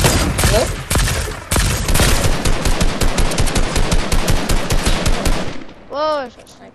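Loud, rapid gunfire in the Fortnite video game, with dense bursts of automatic shots hammering almost continuously, then stopping abruptly near the end followed by a short ringing electronic tone.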